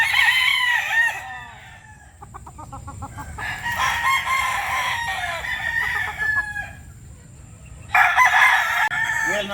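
Roosters crow repeatedly and hens cluck in a chicken coop flooded with water, the long crows rising and falling in several loud waves over a soft background murmur.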